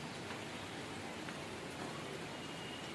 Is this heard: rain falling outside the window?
yes